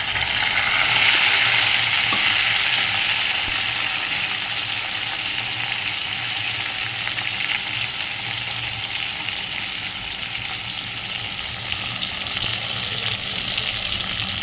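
Onions frying in hot oil in a pan for chicken keema pulav, a loud, dense sizzle with some stirring that holds steady throughout.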